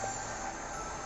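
Steady rumbling train noise from Incorails, a rail video game, rolling continuously without a break, fairly quiet and with no voices over it.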